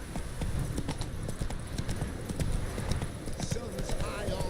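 Roach the horse galloping in The Witcher 3, a fast continuous drum of hooves under steady game ambience, close and fairly loud throughout.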